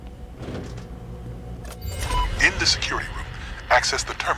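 A card-operated door opening in the video game Crime Boss: Rockay City, heard as a mechanical whirring slide with electronic chirps, moderately loud, while someone talks over it.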